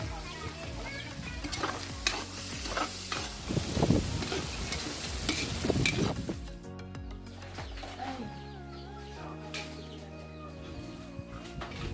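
Pancit noodles stir-fried in a pan, with loud sizzling and scraping stirs through the first half before the cooking fades beneath steady musical tones.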